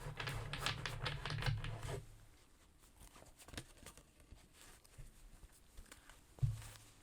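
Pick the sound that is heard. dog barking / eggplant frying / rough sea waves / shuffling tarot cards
shuffling tarot cards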